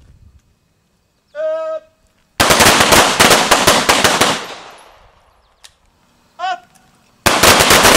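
Handgun shots fired in rapid strings at an outdoor combat-focus shooting drill, two loud bursts of closely spaced cracks with echo trailing off between them, alongside shouted commands from an instructor.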